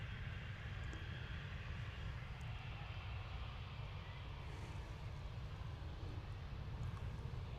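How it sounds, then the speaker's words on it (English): Faint, distant and steady, a British Airways Embraer 190 jet departs Manchester Airport for London City, its engine roar an even wash throughout. "So here we have quite an unusual departure for BA. Embraer 195 off to London City."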